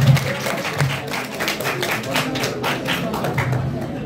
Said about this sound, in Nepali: ल उहाँको लागि जोरदार ताली।